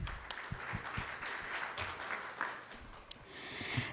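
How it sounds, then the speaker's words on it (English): Applause greets newly elected office bearers of an accounting body at a meet-and-greet event, a fairly faint, continuous patter of clapping with a few sharper individual claps standing out. "Let's have a huge round of applause,"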